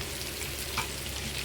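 Onions frying in oil for fish biryani, a steady broadband sizzle with a faint stirring scrape midway, close and even throughout with no voices.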